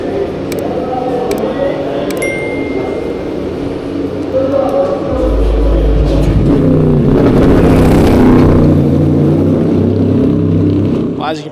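GT race cars in a pit lane during qualifying, their engines revving and rumbling loudly and building to a sustained roar, close by, with a voice talking at times.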